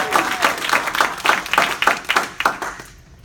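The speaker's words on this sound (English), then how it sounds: "How about a round of applause?" Applause from realty agents honoring a colleague, a modest group clapping in a roughly rhythmic patter of distinct claps that fades out near the end.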